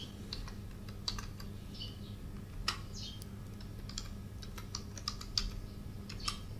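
Keys clatter on a computer keyboard in irregular bursts of typing, close and moderately loud over a steady low background hum, with no talking.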